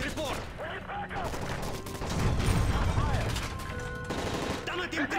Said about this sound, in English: That's gunfire! Hijackers are taking the plane!